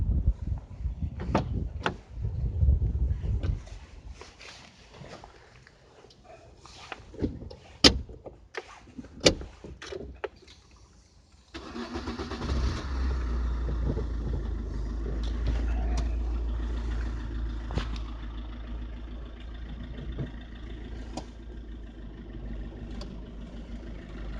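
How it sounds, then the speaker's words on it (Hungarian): A car is started in a parking lot after a few clunks and door-like knocks. Its engine then idles at a fast, steady rumble as it rolls slowly along, with no talk. "beülök az autóba, elindítom az autót, menet közben kiszállok"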